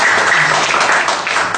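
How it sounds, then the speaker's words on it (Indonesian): Audience at a church talk session applauding the final presentation slide: a short, loud burst of dense clapping from a close crowd, steady for its whole length. "Ini slide terakhir, tepuk tangan buat slide terakhir."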